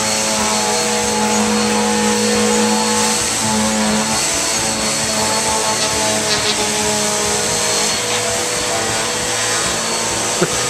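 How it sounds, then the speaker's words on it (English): A vacuum cleaner runs loud and close with a steady motor whine and rushing air, holding at the same level for the whole stretch with nothing else heard. "He's been vacuuming for about 10 minutes."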